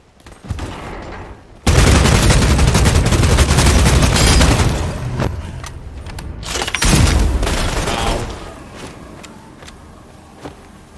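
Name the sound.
gunfire in Bloodhunt video game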